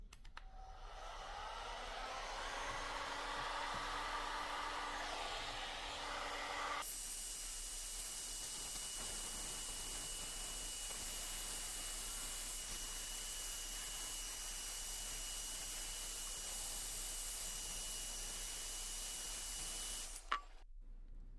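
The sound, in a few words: heat gun blowing on wood to remove sap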